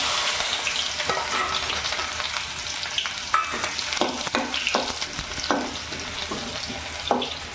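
Chopped onion frying in hot oil in a heated pot while mutton kalji is prepared, a loud continuous sizzle broken by sharp scraping stirs and spatula knocks, close and without talk.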